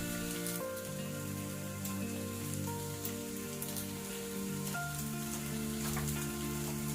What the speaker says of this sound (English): Give it all another stir so the sauce mixes in with the noodles and the veg.